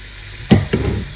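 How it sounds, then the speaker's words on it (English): Cumin and paprika stirred into tomatoes frying in a pan, two quick spoon scrapes over a soft, steady sizzle, close and brief. "Stir that in and then let that cook."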